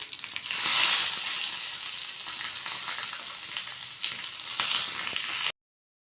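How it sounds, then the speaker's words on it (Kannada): Dry red chillies and curry leaves crackle and sizzle in hot tempering oil for a Kerala-style fire curry, a steady bright hiss that swells at the start and again near the end before cutting off. "ಒಂದೆರಡು ಒಣಮೆಣಸಿನ್ಕಾಯಿ ಹಾಕ್ಕೋತಾ ಇದ್ದೀನಿ. ಕರಿಬೇವು ಸೊಪ್ಪು ಹಾಕ್ಕೋತಾ ಇದ್ದೀನಿ."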